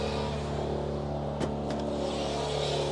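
A Cadillac lowrider's engine idles steadily up close with a low, constant hum and a brief bump in the middle, wind noise in the background.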